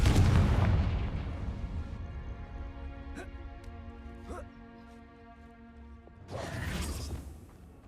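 A Confringo spell explodes in the Hogwarts Legacy video game, a loud booming blast that rings out and decays over tonal game music, followed by a second burst near the end.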